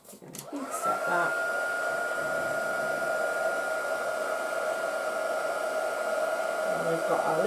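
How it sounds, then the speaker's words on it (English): A heat tool blows hot air over a freshly stamped card, a loud steady whirring drone that starts up in the first second and then holds an even pitch to the end, close by and with nobody talking. "We're going to heat set that."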